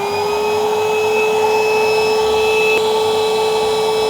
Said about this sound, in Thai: ค่อยๆหมุนเร็วนะต้องการให้ ตัวดูดมันดูด ฝุ่นดูดละอองดูดน้ำยาอะไรให้หมด